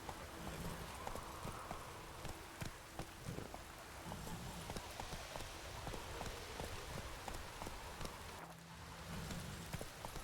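Roach the horse clip-clops at a steady pace through falling rain in The Witcher 3, with soft hoofbeats over a constant patter of rain and one brief pause toward the end.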